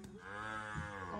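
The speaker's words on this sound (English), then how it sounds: "Baka, baka, moo, moo, moo." A cow on a farm gives a single drawn-out moo, close and clear, with a low voice-like tone sustained for about a second.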